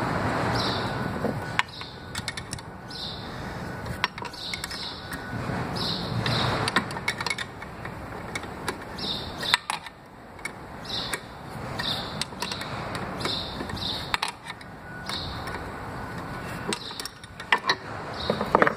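A ratchet wrench loosens a bolt on a Toyota MR2 manual transmission differential, producing rapid rhythmic clicking in repeated bursts over dull metallic knocks and creaks, close and fairly clear.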